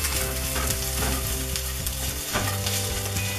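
Cornmeal-coated striped bass fillets sizzle loudly in a frying pan, with scraping and clatter from a utensil as they are flipped.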